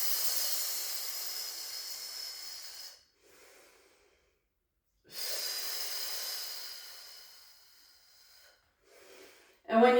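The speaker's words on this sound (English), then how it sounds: "Inhale and then exhale." A fitness instructor breathes audibly during a core exercise: two long, hissing breaths, each a few seconds, separated by silence, close and fairly soft, with no talk over them.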